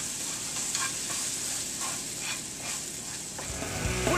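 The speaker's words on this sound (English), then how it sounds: "We're going to let this cook down and caramelize and get a little gooey with all the natural sugars of the banana and the pears" Sliced bananas and pears sizzle and caramelize in a pan, a steady close frying hiss with soft stirring scrapes, swelling slightly louder near the end.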